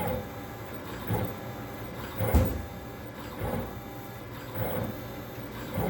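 An ADA braille engraving machine runs with its braille inserter lowered and clamped, giving a steady mechanical whir with periodic louder bumps and clunks roughly every second, close and alone with no talking.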